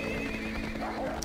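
A horse neighs in a Lord of the Rings strategy video game, a faint short whinny heard against steady game background sound.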